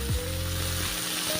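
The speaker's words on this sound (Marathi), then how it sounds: "तेल तापले की आपण त्याच्यामध्ये मोहरी, जिरे, लसूण आणि कढीपत्त्याची फोडणी केलेली आहे" Mustard seeds, cumin, garlic and curry leaves temper in hot oil in a kadhai, a close, soft sizzling hiss with a brief low hum near the start.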